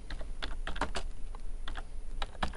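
Keys clacking on a computer keyboard while a string is typed into a VBA InputBox prompt, a quick run of close, crisp taps in uneven bursts with brief pauses between them.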